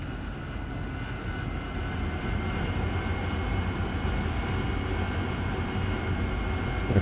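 A heavily loaded jet aircraft taxis in a DCS World flight simulation, with a steady, loud engine rumble and whine that holds constant throughout and has no voices over it.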